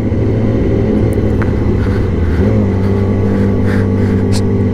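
Yamaha R6 sport bike engine humming steadily while being ridden, a loud, close, continuous drone with slight pitch shifts and wind noise, no talking.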